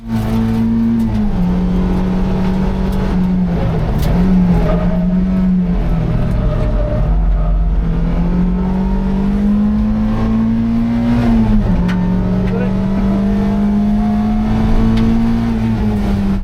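A Mazda MX-5 race car engine on a track drones steadily at high revs, pitch dipping briefly at gear changes and climbing again, loud and close throughout.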